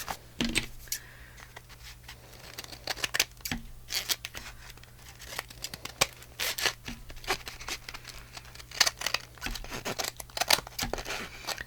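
A knife trims the edges of paper journal pages, giving repeated short, crisp cutting and scraping strokes in irregular bursts over a steady low hum, with no talking.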